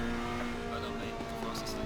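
A Ferrari 488 GT3 Evo race car in the video game Assetto Corsa Competizione brakes with a steady engine drone and brief tire noise, fairly quiet, as someone talks over it.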